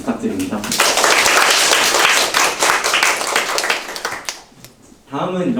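A crowd applauds at a Korean university student council's opening assembly for the spring semester. The dense, loud clapping lasts about four seconds, then fades out, and a speaker's voice follows.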